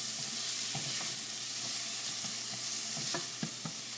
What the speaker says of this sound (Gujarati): ઓનિયનને આપણે એકદમ બ્રાઉન કરવાની જરૂર નથી, થોડા હલકા સચડે